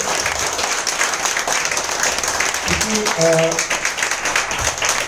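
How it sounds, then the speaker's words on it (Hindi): An audience at a seminar applauds with steady, full clapping, and a voice briefly rises over the noise midway. "ये तीनों के लिए जोरदार तालियां हो जाए दोस्तों।"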